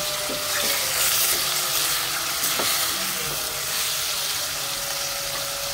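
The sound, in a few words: broth poured into browning chicken for tinolang manok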